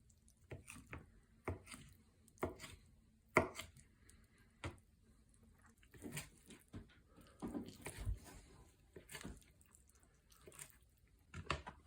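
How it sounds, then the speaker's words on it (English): A knife chops cooked ham into bite-sized pieces on a board, making close, irregular sharp taps in uneven bursts with short pauses and a few soft wet squishes between strikes, no voices. "Just cut everything up in nice bite-sized pieces."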